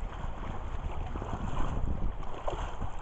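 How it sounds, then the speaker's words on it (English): Wind blows steadily down a lake beside a campsite in Algonquin Park's Western Uplands, a close, rushing roar with gusting buffets and no talk. "The wind's coming down the lake."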